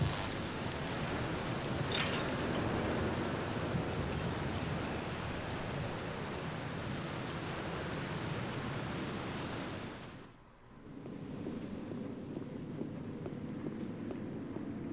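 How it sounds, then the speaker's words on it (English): Steady rain pours down in a continuous hiss in the video game The Black Mirror, then drops abruptly quieter after about ten seconds, continuing as a softer, more muffled patter. "Apparently, it never stops raining"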